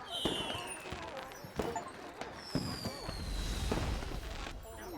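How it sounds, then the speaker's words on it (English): Fireworks going off in the tavern-management video game Tavern Keeper during a Harvest Fest celebration, with repeated popping bursts and crackling, whistling trails over a busy, festive game-audio background while a voice talks excitedly. "And oh my god, fireworks!"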